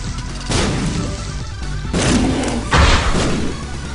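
A boss in The Binding of Isaac blows up in a series of three loud, close booming thuds, each a heavy explosive burst with rumbling low end.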